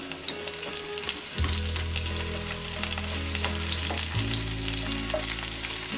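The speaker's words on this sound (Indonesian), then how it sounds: "Aduk dan gongso-gongso sampai bawang bombaynya layu" Onions stir-fry in a pan with ginger and garlic, a dense continuous sizzle close by with a low hum beneath and occasional spatula scrapes, steady and fairly loud, without speech.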